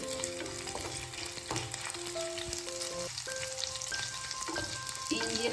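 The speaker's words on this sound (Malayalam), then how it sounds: "ഇത് നല്ലപോലെ വഴറ്റിയെടുക്കാം വെളുത്തുള്ളിയും പച്ചമുളകും ഒക്കെ നല്ലപോലെ ഒന്ന് പാടി വരണം" Garlic and green chillies sautéing in a pan for pickle, steady sizzling oil with intermittent stirring scrapes and a faint tonal hum in the background, close and even.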